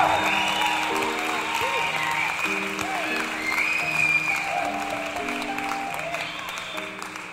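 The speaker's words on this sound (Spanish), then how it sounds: "Aquella noche recibió la Parricholi la ovación más espléndida" A theatre audience gives a sustained ovation, with dense, steady applause throughout while music plays underneath.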